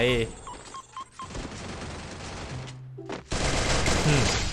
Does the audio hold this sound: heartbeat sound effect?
no